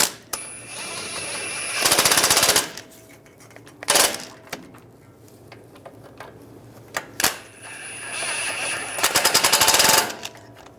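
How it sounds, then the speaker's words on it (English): An impact wrench drives brake caliper bolts on a 2011-2018 Ram 1500 front steering knuckle, giving two loud, rapid rattling bursts, one early and one late, with sharp metallic clanks and clicks between them. "Get the caliper bolts started."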